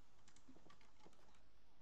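A computer keyboard is typed on to enter a clone command while playing Minecraft: a short run of soft, faint key clicks over steady background hiss.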